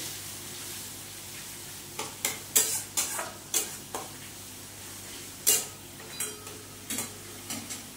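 Chopped tomatoes go into a pan for a Bengali Mughlai-style dal, giving a soft, steady sizzle under a series of sharp spoon-on-pan clinks and stirring knocks, spaced irregularly and fairly quiet.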